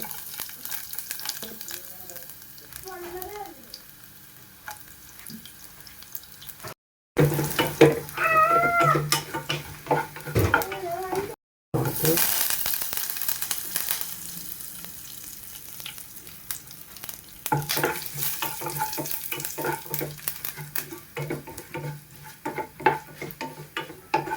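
Cumin seeds and three dried red chillies frying in hot oil for a lentil curry, a continuous crackling sizzle with small pops, broken by two brief cuts in the sound.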